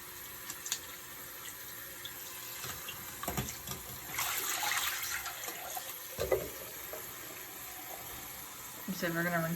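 Tap water runs steadily to rinse black and white film after processing, a continuous close splashing flow with clatters of handling and a short rising fill near the end.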